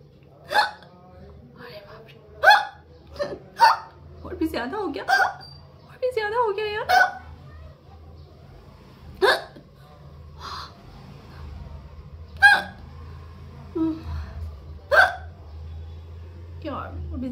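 Repeated real hiccups from a woman, sharp isolated bursts spaced a second or two apart across the stretch, some with voiced squeaky onsets, close and fairly loud over a low background hum.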